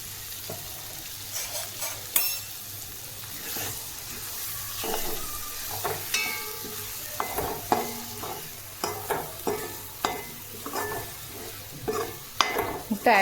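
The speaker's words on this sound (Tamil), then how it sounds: "முட்டை ஆட் பண்ணிவிட்டு நல்லா வதக்கி விட்டுக்கோங்க" Three eggs stir-fried with chopped chappathi for egg kothu give a steady close sizzle, broken by frequent sharp scrapes and clacks of a spatula working the pan, with no talking.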